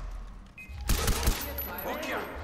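A quick cluster of three or four gunshots in Far Cry 4 cracks out near the middle, followed by echoing rumble, over a low background hum.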